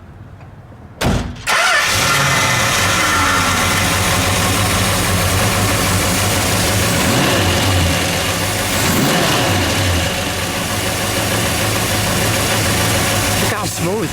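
A 1967 Plymouth Belvedere GTX convertible with a 426 Hemi fires up after a brief pause and settles into a loud, steady idle with a slight blip of revs partway, heard close with occasional voices.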